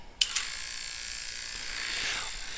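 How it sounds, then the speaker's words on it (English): Vacuum pump switched on for a subatmospheric barometric calibration cycle, starting with a couple of clicks and then settling into a steady, fairly faint high-pitched whir that runs continuously. "Now before I forget, I must turn on the vacuum pump."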